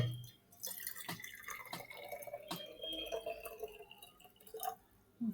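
Water is poured into a plastic bottle during a Tyndall effect demonstration, making a close, gurgling trickle with irregular splashes and drips that runs for several seconds.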